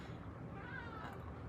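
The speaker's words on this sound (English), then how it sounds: "And the cat, meow." A single short, faint cat meow rises briefly over a low background hum, with no voices alongside.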